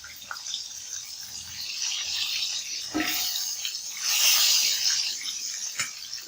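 Chicken pieces deep-frying in hot oil over a medium flame for crispy fried chicken give off a steady, close sizzling hiss that swells and fades slightly, with a couple of brief crackles.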